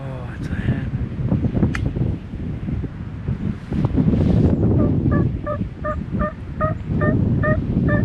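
A wild turkey hen gives a steady series of evenly spaced yelps outdoors, starting after several seconds of wind noise and rustling, with a person speaking quietly nearby.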